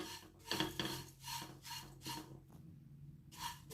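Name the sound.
roasting flattened rice (poha) in a pan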